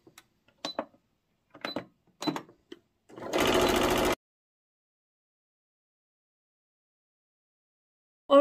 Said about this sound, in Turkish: Kenarlarını temizledikten sonra şimdi şu arka orta kısımlarını dikiyorum.